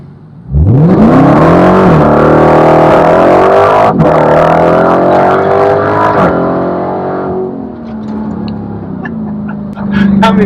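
A Dodge Challenger Demon accelerates hard with traction control on, its engine roaring loud and close as the pitch climbs, then holding and easing before rising again near the end.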